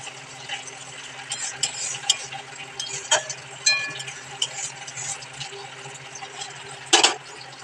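A spoon stirs yogurt into a cooked spice mixture in a pan, making close, irregular wet scraping and light sizzling that ends with one brief louder scrape near the end.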